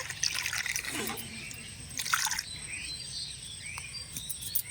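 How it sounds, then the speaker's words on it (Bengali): Sweet hog plums being washed in water, with faint splashes and trickles up close, a few drips, and soft outdoor background with crickets or birds. "এবার আমি মিষ্টি আমড়াগুলো ধুয়ে নেব"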